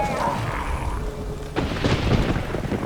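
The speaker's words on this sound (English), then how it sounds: "A magic explosion of some sort. So powerful that even the echo was dangerous." A powerful magical blast in The Witcher 3 rumbles like distant thunder, a low sustained roar swelling into a sharp crack and rolling boom partway through, loud and echoing.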